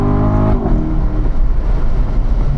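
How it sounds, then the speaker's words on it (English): A car accelerates hard with a loud, steady engine note that breaks up after about half a second as the gearbox downshifts, then carries on with a rougher, rising roar. "See it downshift right there?"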